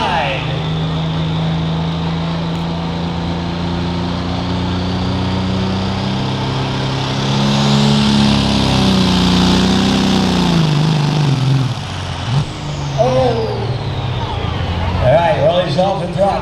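A 1997 Dodge diesel truck at a drag strip, its engine roaring loud and steady with a rising pitch mid-run, then the drone eases off as the throttle lifts while an announcer talks over it.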